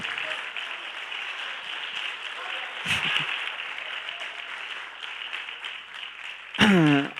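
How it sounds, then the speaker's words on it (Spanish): A church congregation at a prayer meeting claps for the Lord in a steady, moderate wash of hands, with a brief voice breaking through near the end. "¿Puedo darle palmas al Señor?"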